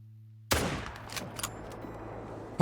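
A single loud rifle shot cracks out in the Call of the Wild hunting game, aimed at a buck, followed by a rolling echo that decays over about two seconds.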